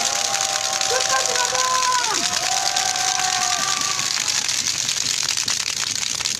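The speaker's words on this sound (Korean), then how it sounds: "큰 환호와 박수 쳐봤으면 좋겠습니다" A large crowd at an outdoor protest rally cheers and applauds loudly, with whistles and shouts rising over a steady wall of clapping.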